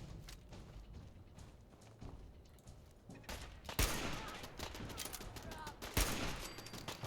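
Rapid turret gunfire in the video game Fallout 4, a dense chattering burst that builds and grows loud halfway through, with sharp individual cracks standing out above it.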